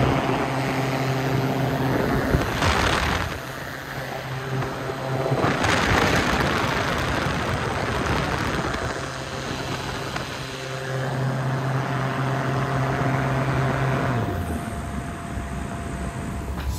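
An Evolution Revolt ultralight aircraft with a 100 horsepower engine gives a steady propeller drone that swells loudly as it passes close by, then holds a sustained hum with shifting pitch.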